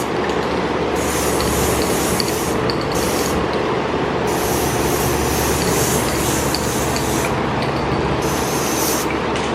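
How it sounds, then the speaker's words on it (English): A spray paint can lays a fine mist over a billet shifter in several long hissing bursts with short pauses between them, close by and steady. "I'm just gonna do kind of a mist on everything"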